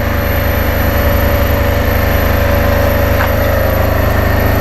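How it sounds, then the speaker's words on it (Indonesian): A portable generator (genset) runs steadily, supplying power to mobile tyre-changing equipment for fitting and removing tyres; a continuous engine drone with a low rumble, fairly loud and close, with no talk over it. "Ini gensetnya sendiri untuk supply listrik ke ini alat ini ya."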